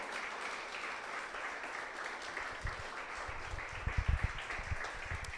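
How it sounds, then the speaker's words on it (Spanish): A church congregation applauding, a dense wash of clapping under a roomy hall reverberation, moderately distant and steady, with a few louder thumps near the end. "Le damos un aplauso al Señor."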